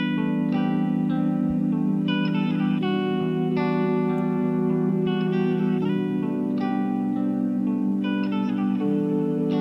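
A Spitfire Audio guitar harmonics synth plays bright plucked, bell-like notes in a lively rhythmic pattern over sustained low chords from a guitar sample, drenched in echo and reverb, loud and steady with no talking.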